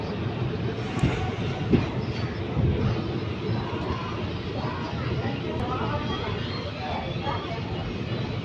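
A train rumbles past near Narsapur station, a steady low roar of wheels and carriages with a few faint clanks, while voices talk indistinctly over it.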